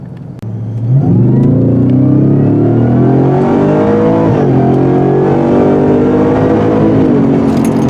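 A 2023 Ford Raptor R pickup truck with a 700 HP engine accelerates hard on a street, its loud engine note climbing steadily through the gears, close and dominant with no talking.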